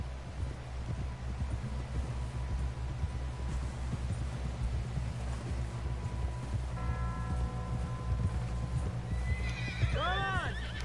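A horse in Red Dead Redemption 2 gallops with steady rhythmic clip-clop hoofbeats over a low rumbling background, ending in a loud whinny near the close.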